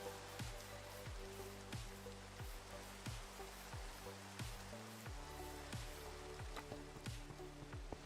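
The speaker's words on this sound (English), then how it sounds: "the rain falling on the metal" Rain patters steadily on metal in the Minecraft video game, a soft, continuous hiss of drops with faint repeated tapping, fairly quiet and with no voices over it.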